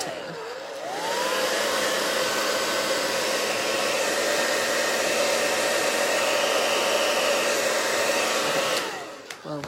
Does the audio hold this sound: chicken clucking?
no